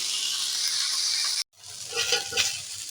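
Potato and Malabar spinach sizzle steadily in a pan, then after a brief silence a spatula stirs them with soft scraping and clattering over a lower sizzle, close and alone.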